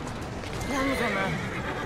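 A horse in Assassin's Creed Syndicate gives one drawn-out whinny over game background noise, with a person talking.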